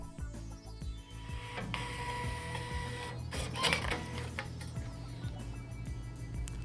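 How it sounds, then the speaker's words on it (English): A Zebra ZT411 industrial label printer running auto calibration, giving a steady low mechanical whir with repeated clicking and feed ticks, brief motor surges partway through, close and continuous with no talking. "Auto calibration in progress."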